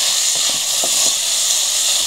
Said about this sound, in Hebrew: אני ככה מטגנת עד שהירקות רכים